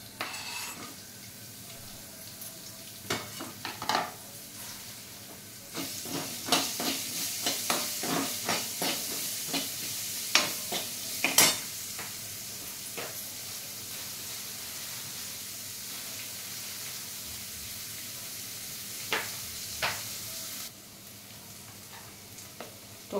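Onion sizzling and crackling in hot oil for a Marathi-style besan bhindi, with scattered sharp pops and stirring clinks over a steady frying hiss, fairly close and moderately loud, no talk.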